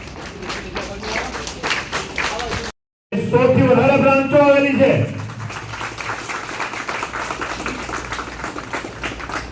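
Audience clapping at a cooperative savings society's branch opening ceremony in Mehsana, a burst of close, dense applause after a brief silence, with a voice speaking over and around it.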